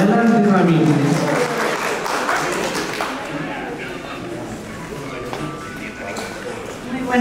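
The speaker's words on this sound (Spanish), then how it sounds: "Recibamos con fuertes aplausos" Guests applaud at a 50th birthday party, clapping strongly at first and then gradually thinning and softening while a voice speaks over it near the beginning.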